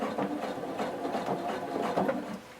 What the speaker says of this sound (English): and I want you to back stitch.